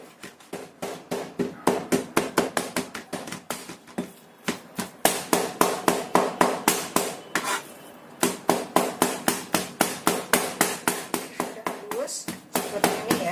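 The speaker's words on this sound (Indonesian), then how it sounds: "ini kita cincang sampai halus." A knife mincing chicken and tofu on a cutting board makes rapid, evenly spaced chopping thuds in long bursts, with a few brief pauses, close and loud.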